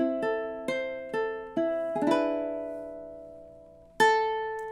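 A ukulele is fingerpicked through measure 4 of House of the Rising Sun: clear, close plucked notes in a steady triple rhythm, then a ringing strum that sustains before one more plucked chord, with no voices.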